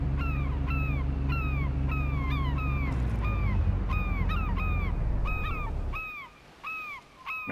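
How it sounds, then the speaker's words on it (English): Repeated bird calls from seabirds in the Fishing Planet video game, harsh cawing cries recurring in a steady series over a low ambient rumble, clear and fairly close, with no talking. "See, there's a lot of birds here,"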